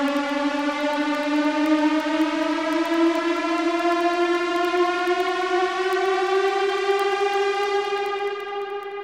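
Synth riser built in Ableton Live's Operator with heavy reverb at full wet and large size, about 8-second decay: a steady, loud rising tone with bright harmonics sweeping upward over nine seconds, fading slightly at the end.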